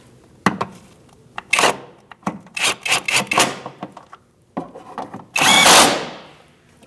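A power tool tightens engine mount bolts on a 2002-2006 Toyota Camry in a series of short, sharp whirring bursts, close and loud, separated by brief pauses, with one longer run near the end.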